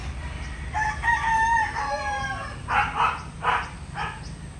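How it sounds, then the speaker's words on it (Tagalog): A rooster crows loudly nearby, followed by a few shorter calls from Rhode Island and Brahma chickens, with a dog-like bark faintly mixed in, in the Philippines. "May mga alaga rin kami mga manok dito."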